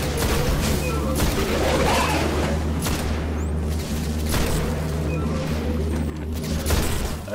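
Enemies exploding under gunfire in the shooter game Destiny, a dense loud rumble of booms and blasts layered over a constant low hum, with no talk during it.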